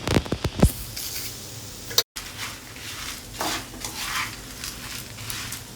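Red chillies and coriander seeds dry roasting in a pan, a soft continuous rustle and faint sizzle with light scraping stirs, after a few sharp clinks of spices dropping in at the start and a brief cut of silence.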